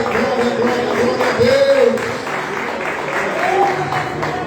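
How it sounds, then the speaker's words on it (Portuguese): A church congregation claps for Jesus during a Portuguese-language worship service, steady rhythmic clapping mixed with voices and sung or called-out tones from the crowd. "uma salva de palmas para Jesus"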